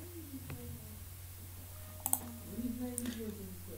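A computer mouse clicks a few times, crisp and close, while navigating Google Chrome settings, with a soft steady background hum and someone speaking.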